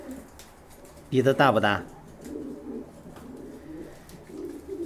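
A pigeon gives a few soft, low, throaty coos at close range, mostly after a man asks a short question over a louder stretch of talk in the first half.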